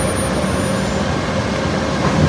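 A metro train in Thailand rumbles along steadily, a loud continuous roar of wheels and motor filling the whole stretch with no voices.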